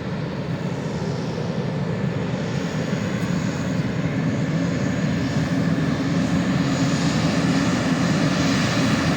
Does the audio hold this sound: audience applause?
no